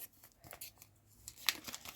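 Someone tears open a small paper surprise packet of sweets, producing quiet, close rips and crinkles in short bursts, with one sharper tear near the middle.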